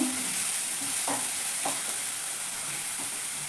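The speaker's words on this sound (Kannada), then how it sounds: "ಈಗ ಇದು ಸ್ವಲ್ಪ ಫ್ರೈ ಆಗಬೇಕು." Chopped onion and green chilli fry in a pan for veg momo filling, giving a steady close sizzle with occasional stirring scrapes throughout and no talking.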